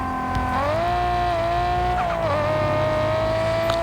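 A car revs steadily in the Car Parking Multiplayer video game, then its tires squeal briefly as it turns, with the engine droning on after. The sound is loud and continuous, and no one talks.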